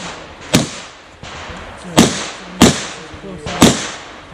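Four sharp shots from a Smith & Wesson Model 325 .45 ACP revolver crack at an indoor shooting match, spaced irregularly about a second apart, loud and close with brief echoing decay.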